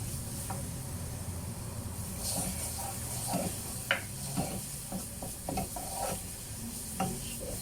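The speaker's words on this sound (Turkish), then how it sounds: "Biraz da salçayla kavuracağım." Tomato paste sautéed in a pan, with a low steady sizzle under repeated scraping and stirring strokes of a utensil, fairly close and moderately loud throughout.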